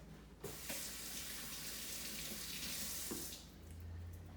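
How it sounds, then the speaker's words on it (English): Water runs steadily from a kitchen tap for hand washing, a close, even hiss that starts abruptly and cuts off near the end. "let me wash my hands real quick"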